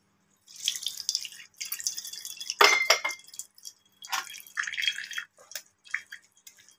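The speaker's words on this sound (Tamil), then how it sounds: "வடிகட்டின நூடுல்ஸை கொஞ்சமாக தண்ணி ஊற்றி" Water poured over drained hakka noodles in bursts of splashing and trickling, with one sharper splash near the middle, close and moderately loud, separated by brief silences.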